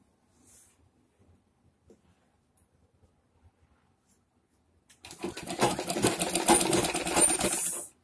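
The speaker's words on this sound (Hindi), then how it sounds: "हमने सिलाई के साथ दोनों पार्ट्स जोड़ने हैं" Sewing machine running steadily for about three seconds as padded blouse pieces are stitched together, a loud continuous mechanical whir after a mostly quiet stretch with a few faint handling taps.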